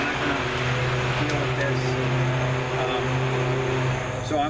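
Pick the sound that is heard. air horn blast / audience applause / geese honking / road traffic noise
road traffic noise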